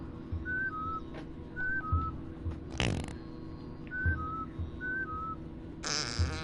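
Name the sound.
Mudokon password whistles in video game Oddworld: New 'n' Tasty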